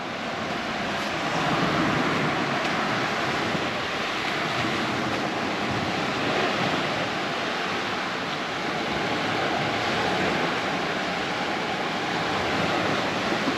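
Surf washes continuously onto Hua Hin beach in Thailand, a broad steady roar of waves mixed with wind, fairly loud and unbroken with no voices.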